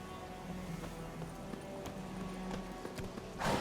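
Hooves clip-clop in a quick, steady run as Geralt's horse Roach gallops in The Witcher 3 video game, moderately close, ending in a brief louder burst like a snort or whinny.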